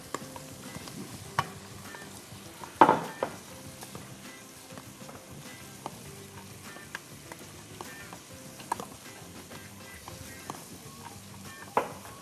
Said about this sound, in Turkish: Sonrasında şimdi yavaş yavaş fasulyeleri kavurmaya başladık.